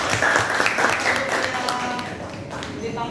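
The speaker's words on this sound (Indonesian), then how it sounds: "Kasih tepuk tangan dulu" Classroom applause for the first student group after their presentation on ecosystems, a brief burst of clapping from the room that fades out quickly.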